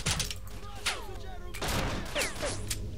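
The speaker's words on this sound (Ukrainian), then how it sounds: "що ти там стріляєш на мене?" Gunfire in the shooter game S.T.A.L.K.E.R.: Shadow of Chernobyl, a scattered fusillade of sharp shots and ricochet whines at mid distance over a low background rumble.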